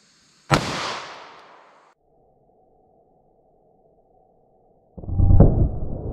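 A 9mm round fired from a 3.2 inch barrel gives one sharp, loud gunshot crack near the start that fades over about a second, followed by a quiet steady hum and then a second loud burst of noise near the end.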